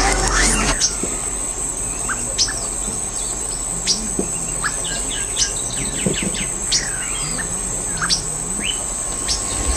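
A sabiá thrush sings in the morning outdoors, its short, clear whistled phrases rising at intervals over a constant dense chorus of crickets and insects.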